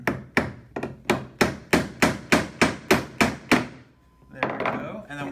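Hammer blows on a wooden planter box piece: about a dozen sharp, evenly spaced thunks in quick succession, close and loud, then a pause and a short burst of rustling handling noise.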